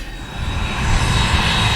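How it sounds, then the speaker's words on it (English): A British Airways jet airliner on the runway at Manchester Airport roars with a loud, steady broadband engine rumble that swells slightly as it powers up, with no voices. "we've got a British Airways aircraft. There it goes."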